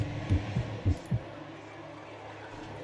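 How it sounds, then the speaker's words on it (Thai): Low thumping heartbeat in the video game Other Side of Mist and Mountain, four soft beats in an irregular pair rhythm over a steady low hum, then fading to the drone alone. "ดูหัวใจเต้นนะ"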